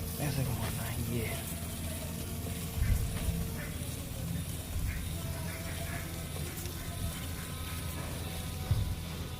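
A brush scrubs the chain of a Honda CB350RS motorcycle as the rear wheel is turned, giving a steady close scratching with a faint ratcheting clicks, under talking.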